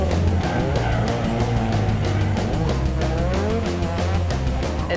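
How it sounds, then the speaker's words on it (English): A loud drift car's engine roars steadily at close range, its pitch wavering up and down throughout with a heavy, continuous rumble. "There are a couple cars out there that are super loud, and they just look fast, and they make good smoke"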